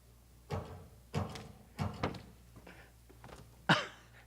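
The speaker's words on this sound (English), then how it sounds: "There's a knocking indeed." Knocking on a door as a stage sound effect during a live performance of Macbeth, heard as several separate, hollow thuds spaced apart over a quiet room. A sharper sound comes near the end.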